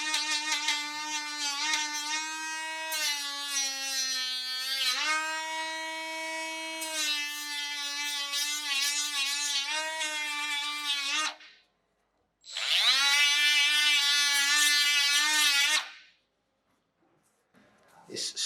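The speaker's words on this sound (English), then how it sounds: "when the polyurethane glue, the Shufix, is cured, we're gonna grind everything that's too much away" A power grinder whines loudly in long sustained bursts against excess cured Shufix polyurethane glue, the pitch dipping under load and recovering, with a short pause between passes.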